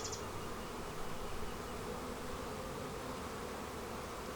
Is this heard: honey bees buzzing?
yes